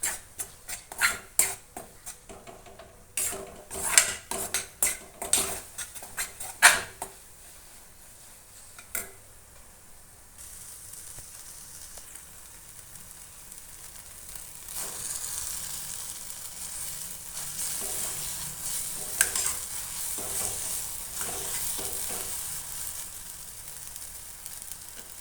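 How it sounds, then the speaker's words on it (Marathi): Raw mango chutney sauteed and stirred in a pan, a burst of sharp spoon scrapes and taps early on, then a steady soft sizzle building through the rest. "चांगली परतून द्यायची ही चटणी आपल्याला"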